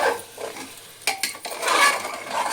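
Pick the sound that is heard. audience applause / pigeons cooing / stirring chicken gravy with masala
stirring chicken gravy with masala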